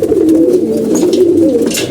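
Pigeons coo steadily and closely throughout while being fed wheat and large chickpeas, a continuous low rolling murmur with a few faint higher chirps above it.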